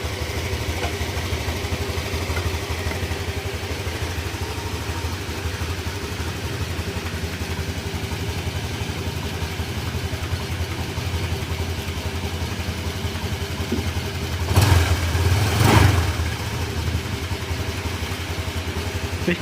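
Honda Click 150 scooter with an overheating problem idling steadily, a continuous low mechanical hum with a light rattle, and a brief louder burst near the end before it settles back to an even idle.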